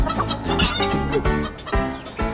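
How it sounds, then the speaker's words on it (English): A crowd of hens on an egg farm clucks loudly and continuously, close by, in overlapping rapid bursts with a few sharper squawks. "Listen to the sound they're making. It's like a little cluck, cluck, cluck, cluck, isn't it?"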